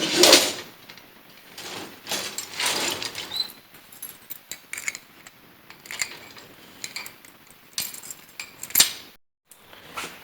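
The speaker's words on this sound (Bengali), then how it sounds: "তার আগে গেটটাকে তালা মেরে দিই" A metal gate being padlocked in the dark early morning, with repeated metallic clanks, rattles and jangles of chain and lock close by.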